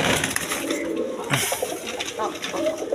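Pigeons in a pen for sale coo repeatedly and scuffle while squabbling, their low throaty calls close and overlapping beneath someone talking.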